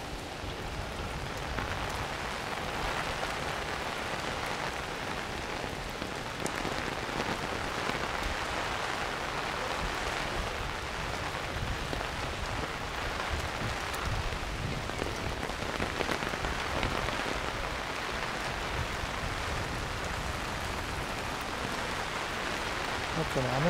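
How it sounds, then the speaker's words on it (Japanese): Heavy rain pours on a Tokyo street during an August walk from Ikebukuro toward Otsuka, a dense, steady patter of drops on surfaces with occasional splashes close by. "雨が強くなってきたんで"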